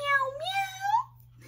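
A voice imitating a cat's meow, one drawn-out rising and falling call, close and clear, followed by quiet.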